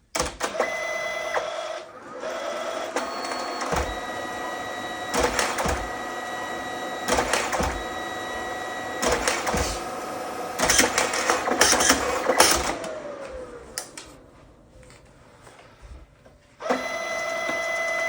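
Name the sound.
receipt printer printing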